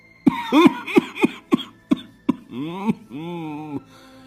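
An old man coughs in a rapid series of harsh, hacking bursts, ending in a drawn-out strained rasp, close and loud.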